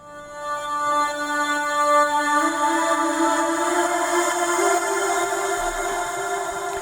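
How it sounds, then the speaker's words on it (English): A single vocal one-shot sample from a trance track, drenched in long reverb, holds sustained harmonic tones that shimmer and slowly evolve, loud and alone, with no talk over it. "One last atmospheric element that I'm going to show you is this vocal."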